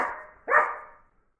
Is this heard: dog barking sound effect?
yes